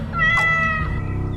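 A cartoon cat gives one drawn-out, wavering meow, loud and close, over a steady low background.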